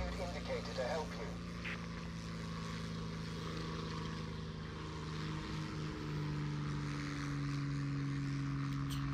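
Propeller warplane engine in War Thunder drones steadily and loudly through the takeoff, a constant hum that holds throughout while someone talks over it.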